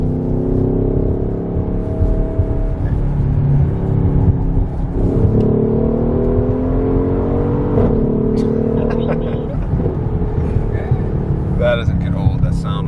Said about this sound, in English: That doesn't get old, that sound of them. The pop is so crispy in the AMGs